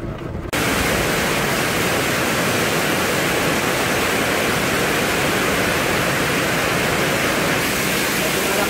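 Overflowing floodwater in Baler rushes loud and constant, a dense roaring wash that starts suddenly and holds steady to the end, close and overwhelming.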